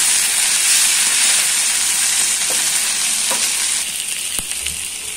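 Sliced okra (bhindi) frying in an uncovered pan and being stirred, giving a loud, steady sizzle with a broad hiss and a few soft scrapes from the stirring, and no voices.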